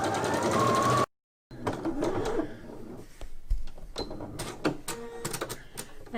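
A sewing machine stitches the seams of a fabric face mask, a fast close mechanical whir and needle clatter that cuts out briefly, then gives way to irregular clicks and light handling noises.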